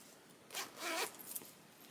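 A zipper with a large lobster-clasp pull is drawn in two quick strokes, close and fairly quiet, with a faint clink of the clasp afterward.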